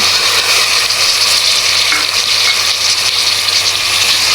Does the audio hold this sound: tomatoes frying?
yes